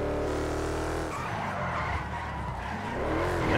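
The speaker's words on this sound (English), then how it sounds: "I'm actually trying to learn how to drift in the game." Tires skid and squeal as a car drifts in GTA 5, an old vintage car rather than a proper drift car, the engine roaring throughout with the screech loud and continuous, alone without talk.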